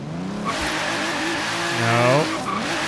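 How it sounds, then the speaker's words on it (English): Pagani Huayra BC (2016) doing a burnout in Forza Horizon 3, a sustained screeching tire squeal over a revving engine that rises in pitch toward the end, loud and close. "it can do a burnout pretty easily, even though it's got 365s"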